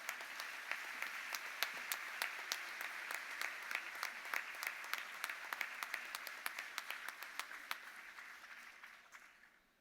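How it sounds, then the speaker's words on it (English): A commencement audience at Wofford College gives a round of applause, crisp distinct claps in a fairly even rhythm that sound somewhat distant and gradually taper off toward the end. "She deserves a round of applause."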